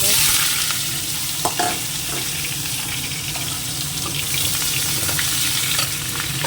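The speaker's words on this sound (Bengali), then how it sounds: "এবার কড়াইতে আবার তেল দিয়েছি এবার যেটা করব এটা একটু ভেজে নেবো" Oil sizzles in a wok while something is fried and stirred, a continuous crackling hiss with occasional scraping of the utensil, close and steady, with no speech.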